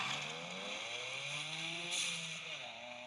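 A steady, raspy Toyota GR Yaris engine exhaust drone with a slight rise in revs near the middle, close by and continuous without speech.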